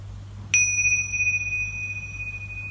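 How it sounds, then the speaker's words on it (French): A single meditation bell is struck once, a clear ringing tone that sustains and slowly fades over a quiet room with a low steady hum. "quand vous entendrez la cloche, vous pourrez rouvrir les yeux"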